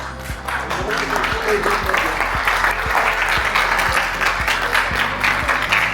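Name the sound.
audience applause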